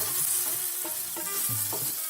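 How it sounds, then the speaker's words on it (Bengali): A spice paste with turmeric and salt is stirred in a frying pan, with a dense, continuous sizzle and rhythmic scraping strokes, loud and close, no talk. "আমি ততক্ষণ নাড়তে থাকবো যতক্ষণ না এটা থেকে একটা ডলা পাঠিয়ে আসছে"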